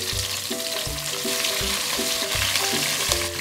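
Two roughly cut red onions sizzle and fry in a hot pan with already browned garlic, a steady close crackle with faint rhythmic stirring throughout.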